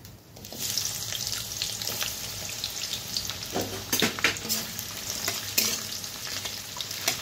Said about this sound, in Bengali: তো এই তেলে আমি দিয়ে দেবো পেঁয়াজ কুচি।